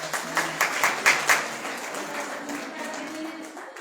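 Applause at a prize distribution ceremony, a short burst of crowd clapping with a few sharper claps early on, fading out over a voice talking.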